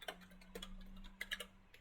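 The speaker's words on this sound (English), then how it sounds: "I'm going to type assistive technology." Faint, sparse keystrokes on a computer keyboard: a few isolated clicks, then a quick cluster of taps near the end, in a quiet room.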